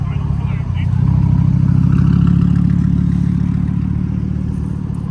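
A Mercedes E63 engine rumbles and revs nearby at a car meet, a loud low throb that swells after the first second and holds steady, with faint voices in the background.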